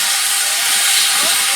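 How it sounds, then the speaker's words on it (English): Steam hisses steadily from the Pullman dining train at Bodiam station on the Kent & East Sussex Railway, a loud, continuous breathy rush without a break and with no voices over it. "And that's the Pullman dining train."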